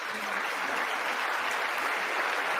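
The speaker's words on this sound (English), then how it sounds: "It also sounds like people are going to clap for that." An audience in the U.S. House chamber claps through a new Speaker's first address, a dense, even roar of many hands that fills the whole stretch without a break.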